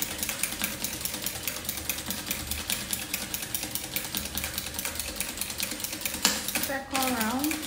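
An industrial sewing machine with a buttonhole attachment stitches fabric in a fast, steady mechanical clatter of rapid needle strokes, running loud and continuous before a brief pause, with a voice entering near the end.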